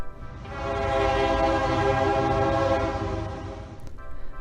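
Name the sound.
Metrolink Antelope Valley Line regional train with horn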